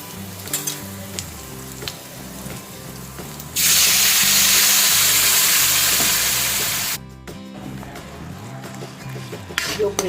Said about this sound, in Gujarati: હવે ગ્રેવીને થોડા જીરા સાથે વઘારી લઈશું.